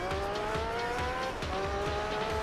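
A Formula car in Gran Turismo 3 sweeping through the Corkscrew, its high engine whine held steady and close, bending in pitch as it brakes and accelerates, with tire squeal over the top.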